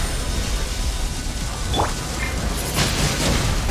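Crackling lightning strike and a rumbling thunder burst during a battle in Genshin Impact, heard over a steady rain-like wash of ambient noise, with a couple of sharp bright cracks standing out.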